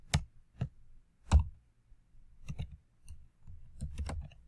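Computer keyboard keys clack in sparse, irregular bursts, single taps and short clusters up close in an otherwise quiet room.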